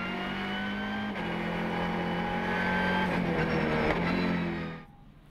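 Lamera Cup race cars at the Nogaro circuit roar loudly and steadily, engines revving and shifting as they pass close by, then the noise cuts off abruptly near the end.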